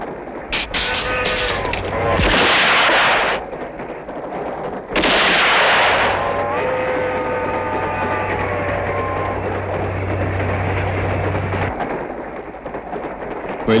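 Revolver gunfire in a Hindi action movie: two loud bursts of shots roughly three seconds apart, each ringing out over a steady background score with sustained tones.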